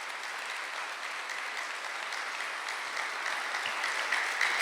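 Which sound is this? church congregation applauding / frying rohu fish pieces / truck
church congregation applauding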